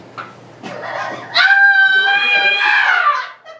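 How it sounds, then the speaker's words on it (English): A woman's sustained high-pitched scream in an old-time radio drama of The Canterville Ghost, rising loud and shrill after a quieter stretch of voice-like sound and holding for about two seconds before fading. "What the devil are you screaming about"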